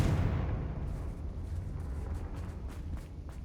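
The Confringo fire spell explodes in Hogwarts Legacy during a cave fight, a deep rumbling blast that decays slowly over a few seconds with faint crackling bursts trailing off.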